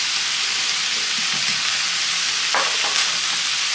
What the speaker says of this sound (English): We'll just give that a little stir.